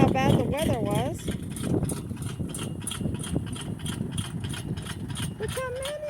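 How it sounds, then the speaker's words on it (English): A rubber-tire tractor engine runs with a steady rumble in a wet potato field during harvest, while people talk over it. "decided to use a rubber tire tractor"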